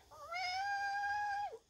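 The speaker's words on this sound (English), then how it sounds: "Oh, my cat wants to say hi." A house cat lets out a single drawn-out meow, clear and close, rising then holding before dropping off at the end, over quiet room background.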